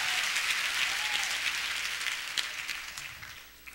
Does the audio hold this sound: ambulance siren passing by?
no